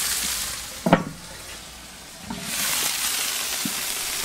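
Sweet potatoes and onions sizzle on a barbecue grill outdoors, a steady soft hiss with a couple of brief louder crackles and handling knocks, no talking.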